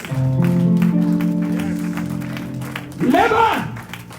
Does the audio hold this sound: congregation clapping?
yes